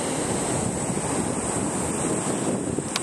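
Rough Indian Ocean surf rolling in at high tide on Palolem Beach, Goa, a steady loud roar of breaking waves with heavy wind noise on the microphone.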